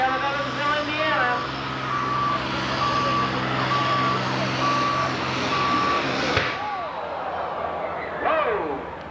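A pulling truck at a 1996 USHRA truck pull in Evansville, Indiana, in the 5,500 and 7,500 lb classes: a loud, steady engine roar runs throughout, with a repeating beep tone sounding over it.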